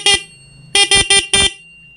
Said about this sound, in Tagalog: At mapapatunog mo na ngayon yung stock horn.